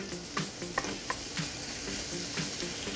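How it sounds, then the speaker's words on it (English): Lamb chunks sizzle in a hot pan, a steady crackling hiss with small pops and occasional stirring clicks, close and alone without voices. "You hear that sizzle?"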